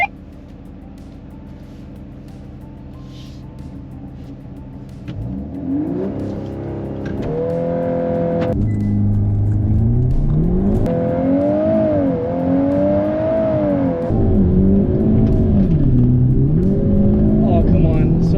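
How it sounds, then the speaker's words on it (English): A 2022 VW Golf R MK8 or 2022 Hyundai Elantra N doing a launch-control drag start: loud engine revs climbing and shifting through gears with wheel spin, heard up close over roughly eighteen seconds, with people talking over it. "So much wheel spin."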